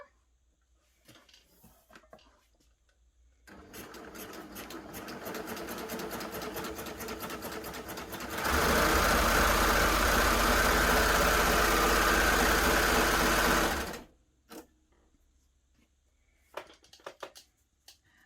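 A Baby Lock Gloria combination cover stitch and overlocker sews a safety seam, first a lighter rhythmic running and then a louder, steady high-speed whir for several seconds before stopping, with small clicks before and after.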